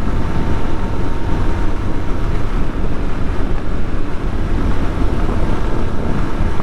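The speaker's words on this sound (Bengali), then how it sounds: "অনেক বাতাস" Loud, constant wind roar buffets the microphone while riding a 125cc motorcycle along the Mawa road toward the Padma bridge, steady and dense throughout with no speech.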